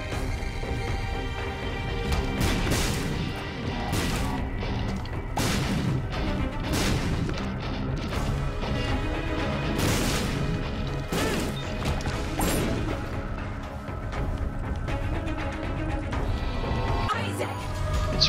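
Bomb blasts in The Binding of Isaac: Afterbirth, a run of loud booming explosions going off repeatedly over continuous game music and effects.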